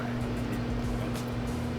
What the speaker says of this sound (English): most of the noise we're hearing is just the backlash of the blowers, of the blower gears